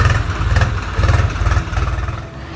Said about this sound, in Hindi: यहाँ से देखिए अभी एक ट्रैक्टर जा रहा है